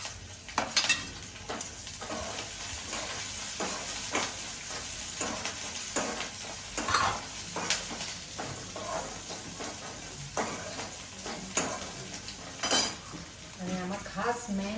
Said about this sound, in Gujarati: તો હવે મરચાં લસણ એડ કરી દઈશું.